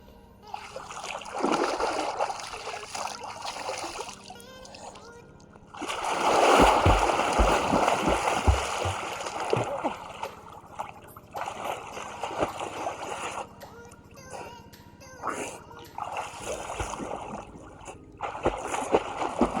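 Water splashing in a cold village pond during bathing, with repeated bursts of pouring and sloshing, a long heavy splash in the middle and softer trickles between, close by.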